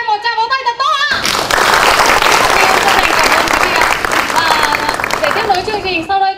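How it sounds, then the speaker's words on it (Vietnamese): Loud crowd applause at a mall opening ceremony in Bac Ninh, breaking in sharply after a host's voice over music and holding dense for several seconds before the music resurfaces. "Xin cho em một tràng pháo tay thật to ạ."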